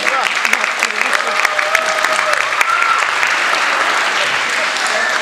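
An audience at a school winter concert breaks into loud, sustained applause, dense clapping from many people that holds steady for several seconds with a few voices mixed in.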